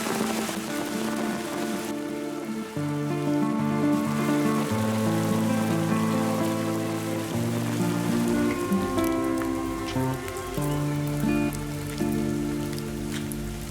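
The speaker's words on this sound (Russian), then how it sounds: "я сейчас подожду, пока дождь закончится" Rain falls steadily and densely, a constant patter on a surface that continues throughout without pause, with tonal ringing mixed underneath and nobody speaking.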